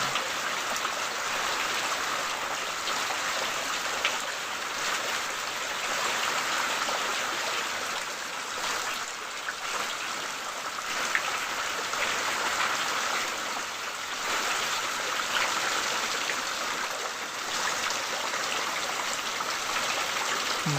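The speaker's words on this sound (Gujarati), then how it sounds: "જો ફૂલ વરસાદ, અંદર કોઈ દેખાતું નહીં એવો વરસાદ પડેલો." Heavy rain pours down in a steady, dense hiss that never lets up, with no voices.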